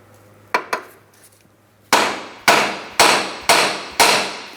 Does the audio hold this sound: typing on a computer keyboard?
no